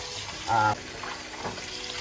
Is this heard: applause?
no